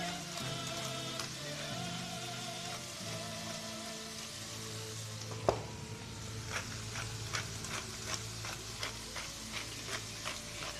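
Minced meat cooks in a pan with a faint, even sizzle. Scattered light ticks and taps, and one sharper knock, sound up close with no talking.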